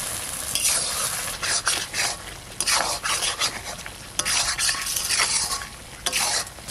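Duck meat from a local desi duck stirring and frying in oil in a pot, a busy run of scraping strokes over steady sizzling, close and fairly loud, with no voices.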